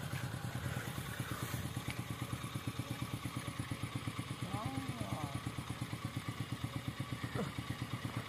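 A motorcycle engine runs with a steady rapid pulsing putter, continuous and moderately quiet, on a rough road with slipping tyres, while people talk faintly in the background.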